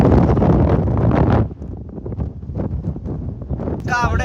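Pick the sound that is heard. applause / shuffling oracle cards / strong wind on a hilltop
strong wind on a hilltop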